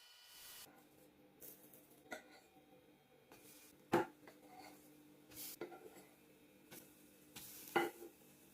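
Pancake batter cooks quietly on a hot pan, faint sizzling under occasional knocks and scrapes of a utensil against the pan, with a couple of sharper metallic taps.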